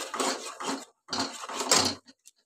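A gourd-peel paste is stirred in a pan at close range: two short bursts of metal scraping, a brief pause, then a longer run of scraping strokes ending in a couple of light taps.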